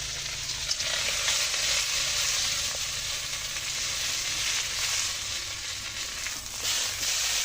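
Small puti fish fry in hot oil in a pan, giving a steady, loud, dense sizzle throughout with no voices.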